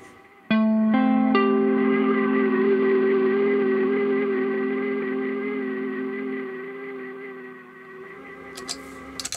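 An electric guitar chord rings out through a Chase Bliss Dark World reverb feeding its modulation side, sustaining as a wide, shimmering wash that slowly fades over several seconds, with no talking.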